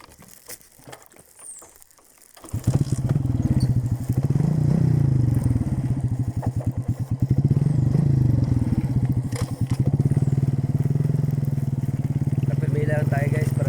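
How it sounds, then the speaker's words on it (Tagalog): A motorcycle climbs a steep dirt road in hot, dry conditions; the engine goes from quiet to a loud, close, throbbing putter that rises and dips as it labors uphill, with a rider talking briefly early on. "Kaya lang yan na akyatin ng motor."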